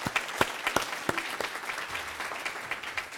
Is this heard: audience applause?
yes